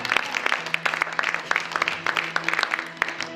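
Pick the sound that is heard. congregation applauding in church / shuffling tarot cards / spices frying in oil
congregation applauding in church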